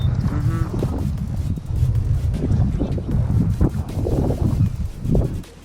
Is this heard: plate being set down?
no